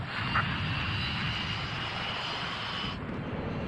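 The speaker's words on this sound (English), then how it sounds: "This is the Ocean Air Force transport plane Mother Goose 1." The engine of a transport plane in the video game Ace Combat 5 drones in a constant, loud, smooth roar, with a slight shift in tone near the end.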